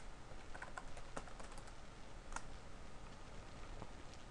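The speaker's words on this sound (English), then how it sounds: "type in your credentials" Fingers typing on a computer keyboard, a brisk run of light key clicks with a few sharper taps, steady and close, with no speech.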